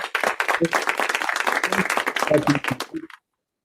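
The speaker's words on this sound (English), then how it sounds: "I think that deserves a big round of applause" A crowd at a weekly assembly for an A.Y.E tenth-anniversary gathering claps loudly and densely for about three seconds, with a few voices mixed in, before stopping abruptly into silence.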